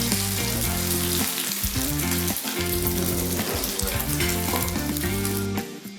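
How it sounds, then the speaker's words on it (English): Egg-coated kebab (Ugandan chaps) sizzles and fries steadily in a pan, a constant crackling hiss under tonal background music throughout. "Dip it into raw beaten eggs to coat the top and put it back in the pan."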